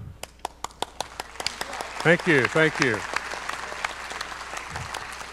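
A small live-stream audience claps in sparse, scattered beats that thicken into a brief burst of applause, while someone speaks briefly over the clapping.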